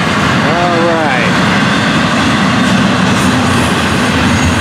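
A loud, continuous rumble of a freight train with empty auto racks rolling past close by, steady and unbroken, with a brief horn-like tone early on.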